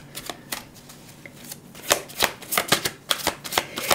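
Tarot cards are shuffled in a series of crisp riffling bursts, sparse at first and then coming in quick clustered flurries, close and fairly quiet.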